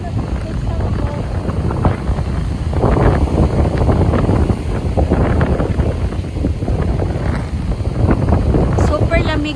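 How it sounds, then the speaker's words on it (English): Strong wind roars against the microphone on an open beach at Lucky Bay in autumn, a loud, continuous buffeting gust with faint voices beneath it. "It's very windy."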